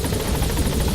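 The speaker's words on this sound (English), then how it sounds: "Support helicopter has arrived." The support helicopter Pequod from Metal Gear Solid V hovers nearby, its rotor blades chopping steadily over a dense, loud engine roar in a brief unbroken burst with no speech.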